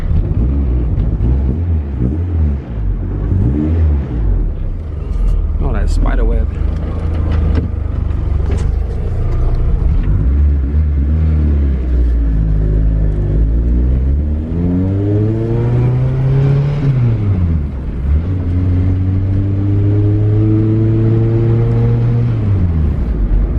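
A loud car engine rumbles and revs, rising and falling in pitch close by, with a brief spoken remark over it.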